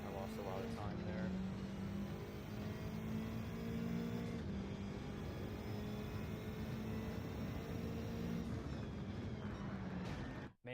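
A race car engine in Gran Turismo 7 drones and revs steadily throughout, loud and continuous, with a voice speaking over it and a sudden cutoff at the end.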